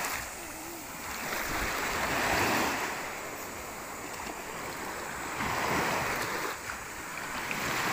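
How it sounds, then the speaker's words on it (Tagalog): Strong waves surging and crashing in broad washes of surf, rising and falling in slow swells, close and continuous. "Guys, lakas ng alon guys,"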